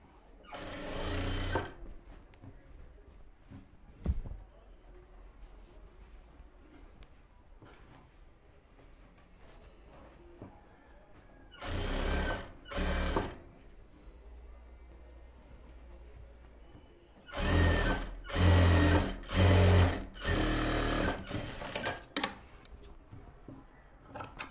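A tailoring sewing machine stitches a puff sleeve in several separate loud bursts of rapid whirring, close by, with quiet pauses and handling noise between runs.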